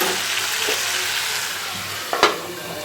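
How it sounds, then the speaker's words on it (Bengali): Spice masala stirs and sizzles in a hot pan as a steady, loud frying hiss, with a few scraping stirs and a sharp clack near the end. "তো এইবারে মশলাটাকে দিয়ে একটুখানি নাড়াচাড়া করে নেবো ভালো করে"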